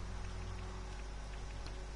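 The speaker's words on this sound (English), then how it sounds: "And it started raining." Rain falls steadily in the video game Fallout 76, a dense, even hiss of rain with no breaks, fairly faint and heard on its own.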